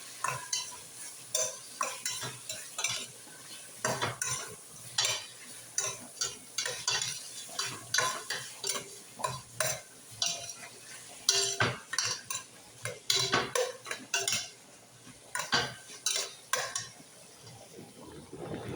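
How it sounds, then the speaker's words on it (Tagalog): A spoon repeatedly stirs tinola soup in a metal pot in a rhythmic series of scraping, clinking strokes over a faint simmer, close and moderately loud, with no voices. "Mix, mix lang natin yung tinola natin"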